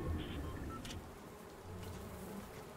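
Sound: wasps buzzing in the video game Fortnite

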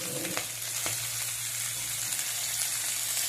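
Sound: turmeric added to sizzling oil in pan

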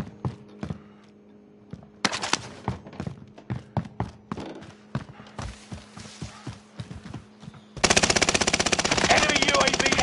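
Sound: gunfire in Call of Duty video game

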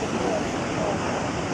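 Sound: Niagara Falls waterfall roaring

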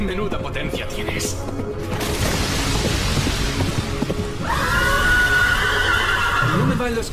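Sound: horse neighing in Devil May Cry 3 video game

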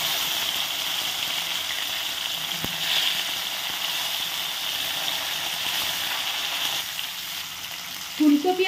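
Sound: cauliflower added to hot oil, frying and sizzling

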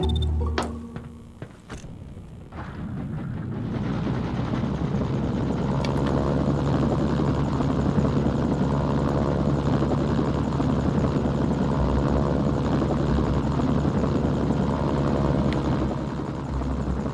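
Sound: helicopter, from a video game

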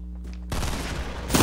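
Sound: gunfire in Fortnite video game

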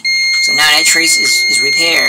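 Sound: continuity tester beeping across repaired e-bike controller trace

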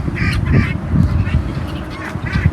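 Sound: domestic Çorum geese honking

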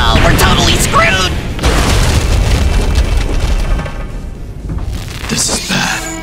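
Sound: bomb exploding in animation

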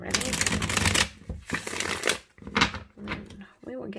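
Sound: shuffling tarot or oracle cards

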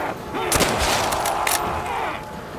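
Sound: gunshot in Call of Duty World at War Zombies video game

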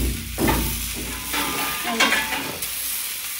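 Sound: stuffed ivy gourd (kundru) cooking on a tawa

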